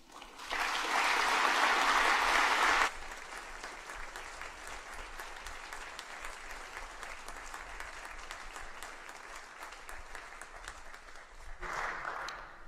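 A Church of England General Synod audience applauds, a loud burst of clapping for about two seconds that thins into scattered, lighter clapping and then swells briefly again near the end.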